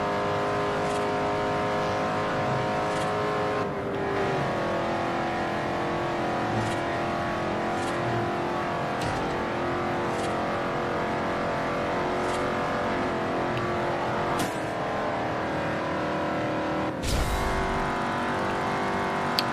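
Ford GT racing through Forza Horizon, engine roaring continuously at close range, with shifts in pitch as it accelerates and brief sharp knocks near the end.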